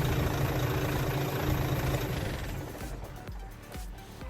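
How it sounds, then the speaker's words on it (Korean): A bus engine is shut off using the controls in its rear engine room: a loud, close idling rumble runs steadily, then winds down and stops partway through, leaving only faint mechanical noises. "시동이 꺼졌죠"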